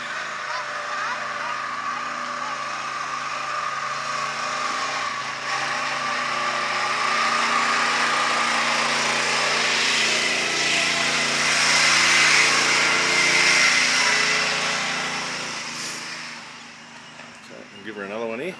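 An abandoned Ford Flathead V8 that sat for over 30 years is cranked and runs with a steady, loud engine drone that swells and fades outdoors, with occasional voices over it.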